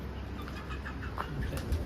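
A bird, likely a pigeon, lands close by with a brief burst of flapping wings over a steady outdoor background hum, with no voices.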